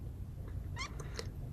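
A cat gives a couple of short meows, moderately close over a steady low background hum.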